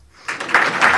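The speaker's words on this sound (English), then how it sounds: "Y'all can clap." Applause from an audience at a Henrico County homeownership announcement, a quick burst of close, crisp clapping that builds rapidly from near silence.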